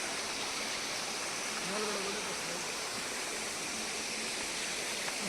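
A waterfall near Murdeshwar roars steadily as a continuous broadband rush that stays even and fairly close throughout, with faint voices in the background.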